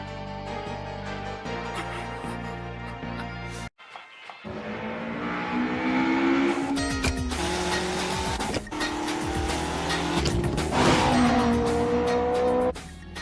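An animated race car accelerates and upshifts. The engine revs climb and then break off at each shift, and a sharp gap is followed by a louder, sustained, strained roar with tire squeal.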